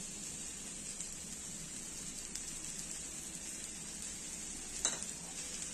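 Chilli, turmeric, coriander and cumin powders being stirred into rice with chopped tomatoes for bhuna khichdi make a soft, even sizzle and hiss close by, with a faint scrape of a spoon near the end and no talking.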